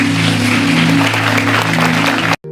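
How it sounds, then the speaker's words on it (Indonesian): A church congregation claps and applauds during a sermon, dense and loud, then stops abruptly at the end. "Berikan tepuk tangan kita untuk Tuhan kita."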